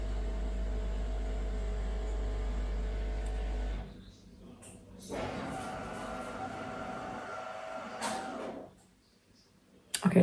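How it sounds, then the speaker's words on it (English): A coffee machine runs with a steady low hum and broad whir, then shifts to a quieter hiss and rumble, ending in a sudden loud burst. "That's the coffee machine."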